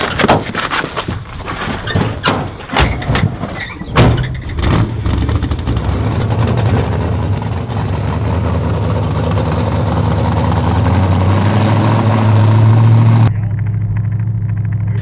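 A very loud car engine idles after a door shuts, with a few sharp thumps and knocks early on. A heavy, steady rumble then fills the rest, close and dominant, before dropping away abruptly near the end.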